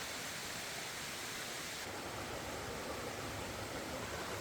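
Steady, broadband rush of falling water, constant and fairly soft throughout, from a small cascade on a stream in Vang Vieng, Laos, heard from nearby.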